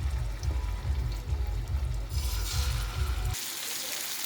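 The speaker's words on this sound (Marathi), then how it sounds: "आता एक एक करून मच्छी तव्यामध्ये ठेवायची आहे" Pieces of fish going one by one into hot oil on a tawa: a low, pulsing bubbling rumble under a hiss, which gives way to a brighter, sharper sizzle near the end.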